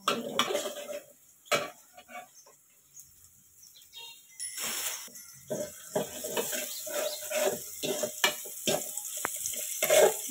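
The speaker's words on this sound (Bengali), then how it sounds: "লাল হওয়া পর্যন্ত আমরা এটাকে ভাজবো ভালো করে" Chopped green chilli and garlic frying in a home kitchen pan, heard as close, irregular clinks and scrapes of a utensil stirring against the pan, with soft sizzling and a burst of activity partway through; no talk.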